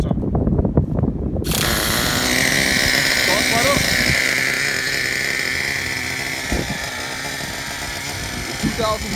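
A 2009 Traxxas Revo 3.3 nitro RC car engine fires up after a brief muffled start, then holds a loud, buzzing, high-pitched running note close by for several seconds, with a faint mechanical whine on top.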